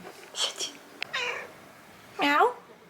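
A small sphynx kitten meows a few times in a quiet indoor room, with short rising and falling calls spread across a few seconds, up close and fairly soft.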